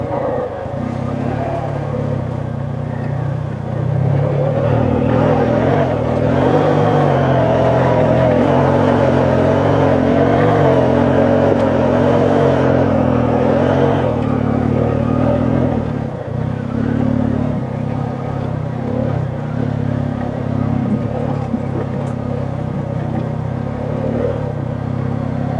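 A Honda Rubicon ATV engine drones steadily while riding, holding a loud, rough hum that rises and falls slightly as it runs through the gears, with brief talk now and then.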